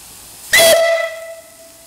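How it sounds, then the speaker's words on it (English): A loud antique steam whistle on a steam engine boiler sounds once, a sharp burst of hissing steam settling into a sustained whistle tone that fades out over about a second. "An old antique whistle."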